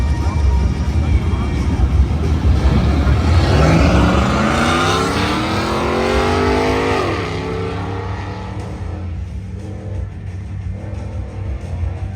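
An emerald green 2011 Chevy Camaro with a 3.6 liter V6 revs loudly up through a rising engine note and then eases off, with steady crowd and event noise around it and voices mixed in.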